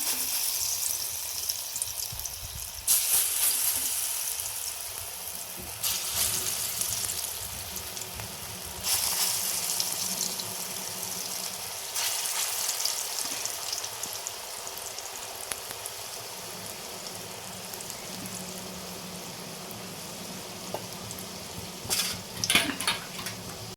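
Bottle gourd leaf fritters fry in hot oil, giving a continuous bubbling sizzle that swells and eases at intervals, close and steady with no talk.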